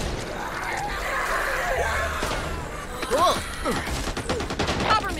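Gunfire in the zombie shooter Back 4 Blood, bursts of rapid shots crackling among game noise, with players yelling and talking over it.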